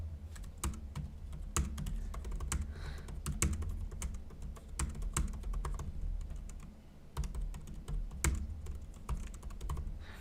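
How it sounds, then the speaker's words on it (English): A computer keyboard clacks in rapid bursts of typing separated by brief pauses, close and clear over a low rumbling room background. "we're testing my typing ability"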